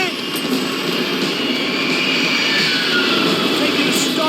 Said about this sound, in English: The other plane!